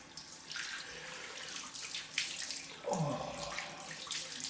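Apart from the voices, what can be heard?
tap water running for cold rinse after shave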